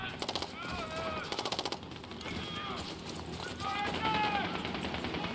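Rapid bursts of machine-gun fire in the video game Call of Duty Black Ops 6, short rattling volleys mixed with a voice talking over the combat sounds.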